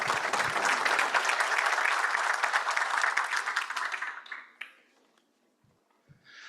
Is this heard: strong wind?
no